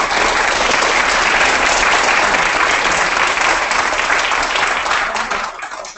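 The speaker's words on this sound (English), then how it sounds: "let's give a big round of applause for our three speakers." A lecture audience applauds its three speakers at the close of a biotechnology and therapeutics session. The clapping is loud, dense and steady, with no voices, and it runs for about six seconds before tapering off at the end.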